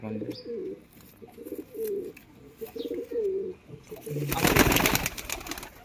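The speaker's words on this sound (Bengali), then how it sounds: "এটা কি পায়রা যেন?" Pigeons coo in a close, repeated rolling rhythm, several soft calls in a row, before a loud burst of rustling or fluttering near the end.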